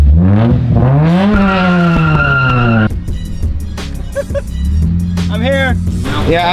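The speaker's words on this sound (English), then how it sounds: "let's do a little bit of a" A Mazda Miata's engine revs up in a rising drone, then tires squeal and chirp in short bursts during a burnout, with people talking over it.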